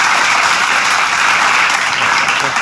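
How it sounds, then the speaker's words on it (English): A burst of loud, dense clapping from a crowd, sustained and even throughout without voices. "Give a round of applause, guys, okay?"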